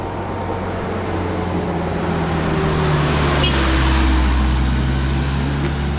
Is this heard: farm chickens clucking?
no